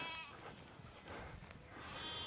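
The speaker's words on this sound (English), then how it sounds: "Sheep, goats, you name it, they're here." Sheep and goats bleat faintly in the distance on a golf course, with a couple of soft, drawn-out calls over quiet outdoor ambience.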